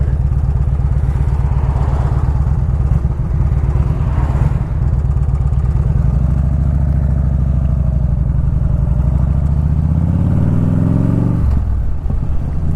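An older Harley-Davidson Evo motorcycle engine under way, a loud, close, continuous lumpy rumble with steady pulsing, rising in pitch as the bike accelerates toward the end.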